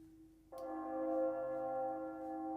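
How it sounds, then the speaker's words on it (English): A single church bell strike, field-recorded at a church, rings out after a brief quiet moment, its rich tone sustaining and humming steadily without fading much. "that's just a church bell field recording that I made from my local church"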